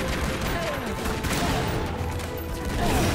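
Rapid gunfire in Tomb Raider Legend aimed at the final boss in Ghana, a dense fusillade of shots running throughout under game ambience.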